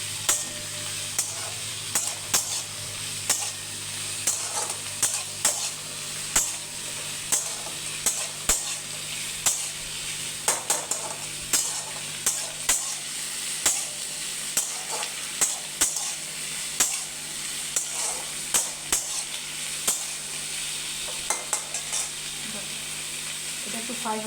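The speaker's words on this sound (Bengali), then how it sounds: "এই যে কড়াইতে না আমি একটু নাড়িয়ে নিচ্ছি সব মশলা," Whole spices being stirred and dry-fried in a kadai for a chicken dish, a soft steady sizzle punctuated by regular scraping clicks of the spatula over about twenty seconds.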